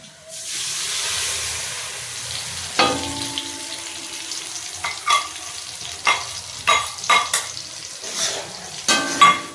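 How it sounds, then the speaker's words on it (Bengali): Cumin, coriander, chilli and garam masala frying in a wok, a loud hiss as the spices hit the hot oil, then continuous sizzling broken by repeated sharp stirring scrapes and clanks, close up. "মশলা সুন্দর করে ভেজে নিই।"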